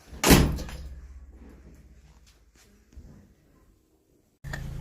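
A car door slams shut with a loud, close thunk that rings out and fades, followed by a few soft knocks and then rustling near the end.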